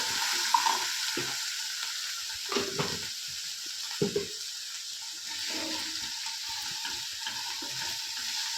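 Ginger frying in a pan for an egg tomato curry, a continuous hissing sizzle with a few spoon scrapes and clinks against the pan, no speech.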